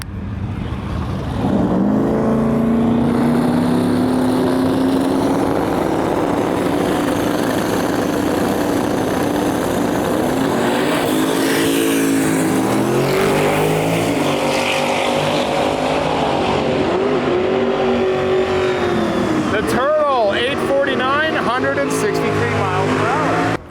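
Drag race car making a pass at Gainesville Raceway during Sick Week, a loud sustained engine roar with rising pitch close by, shifting and fading near the end as talk carries over it.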